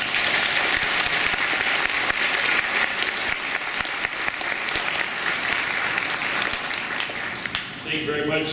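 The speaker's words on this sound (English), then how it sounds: "introducing him with a great round of applause" An audience at a Veterans Day event gives a sustained round of applause, dense and even, fading slightly at the close as a voice begins.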